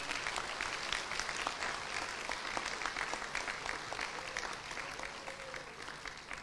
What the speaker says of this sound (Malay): Mari semua kita bagi satu tepukan kepada wakil-wakil kita daripada Sabah dan Sarawak.